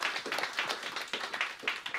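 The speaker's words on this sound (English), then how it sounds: "can we have first a round of applause for all the wonderful women that are here" An audience gives a round of applause at a Eurovision-themed event honouring women, steady dense clapping at a moderate distance with no voices over it.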